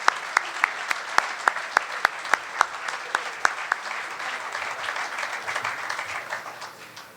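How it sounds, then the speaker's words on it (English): A crowd applauds honorees at a fraternity convention awards ceremony, with a few loud nearby claps standing out over dense clapping that thins and fades toward the end. "Let's give all these men a round of applause."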